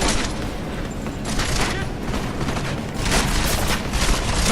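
Dense gunfire and explosions rattle through a firefight in Deus Ex: Mankind Divided, a continuous loud barrage of overlapping shots and booms with no pauses.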